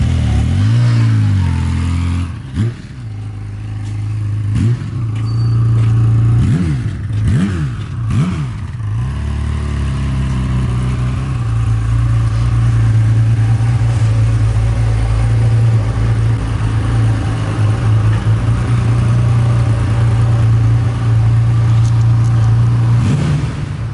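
1982 Kawasaki KZ1300A motorcycle engine running close by, a deep steady idle with a few sharp throttle blips and revs early on, then settling into a loud, even drone.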